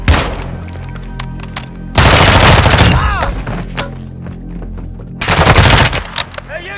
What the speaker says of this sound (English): using a machine gun!